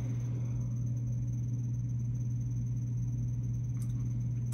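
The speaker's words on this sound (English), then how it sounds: "it's a stupid air conditioner in this hotel room." A hotel room air conditioner hums with a steady low drone and a constant thin high whine, running unbroken and fairly quiet, with a brief faint tick near the end.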